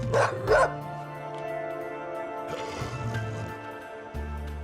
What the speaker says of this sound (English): It runs whimpering from the room, completely unaware of the cats.